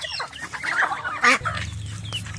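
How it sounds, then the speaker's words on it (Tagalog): Brooding hens on a farm cluck repeatedly, fairly close, with varied short calls layered together and a low steady hum joining partway through. "mga inahin na naglilimbing."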